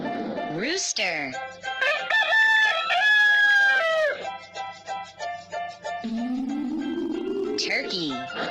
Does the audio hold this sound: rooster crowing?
yes